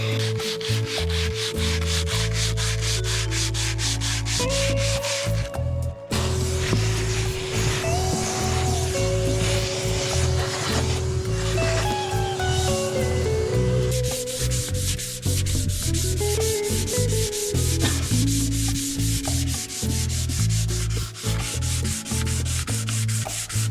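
Wood on a boat project is sanded by hand along the grain, a continuous close rasping rub with long, even strokes and short pauses, heard alone without talk.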